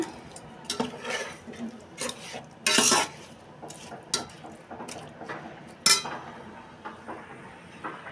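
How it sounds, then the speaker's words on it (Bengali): Chicken pieces stirred and sautéed inside a rice cooker for khichuri, with scattered scrapes and metallic clinks of a spoon against the pot over a faint low sizzle. "এই তো মাংস তো কষানো হচ্ছে"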